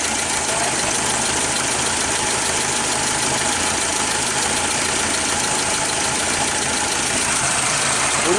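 A Mazda Vantrend's engine runs steadily up close with a continuous knocking rattle in its idle, suspected of an odd non-metallic noise; no one speaks.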